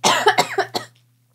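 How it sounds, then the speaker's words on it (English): A person coughs several times in a quick, harsh burst close to the microphone, then a short pause before another sound begins. "It is making me cough because it hit me right in the back of the throat."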